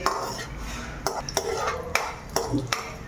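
Metal utensil scraping and knocking against a pan as cashews fry over low heat, with several distinct clinks spaced through a steady low sizzle and stirring rustle, no talk.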